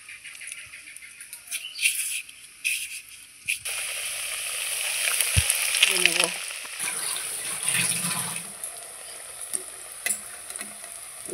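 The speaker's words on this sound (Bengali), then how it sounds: "আমি এইভাবে এক এক করে সব কাটলেটগুলো আমি ভেজে নেব।" Fish egg cutlets coated in biscuit crumbs frying in hot oil, a continuous close sizzle that swells as pieces go in, with occasional scraping clinks and faint background sounds.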